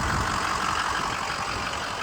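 A bulletproofed Ford 6.0 diesel truck engine with a new engine and transmission runs steadily nearby, a continuous rough low rumble with broad hiss and no speech.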